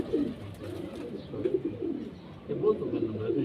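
Teddy pigeons cooing in low, soft repeated bursts close by at a breeder's loft, with gentle rustling between calls.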